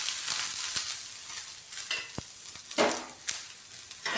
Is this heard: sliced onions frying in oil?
yes